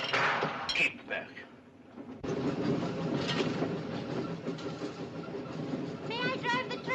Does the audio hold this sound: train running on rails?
yes